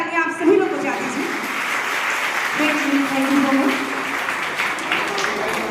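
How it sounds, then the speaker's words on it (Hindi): An audience claps steadily for children closing a ten-day free folk dance workshop, the applause running throughout with a voice speaking over it. "जोरदार तालियां आप सभी लोग बजा दीजिए।"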